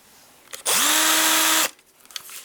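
A Bosch GSR 180-LI cordless drill-driver spins up for about a second at steady speed, a loud, even motor whine with a short rising start and quick stop, surrounded by quiet room tone.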